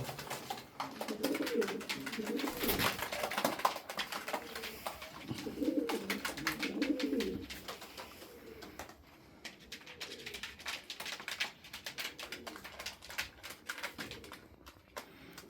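White Turkish Makine tumbler pigeons coo in low, rolling bursts, close by, with soft fluttering and tapping sounds in between.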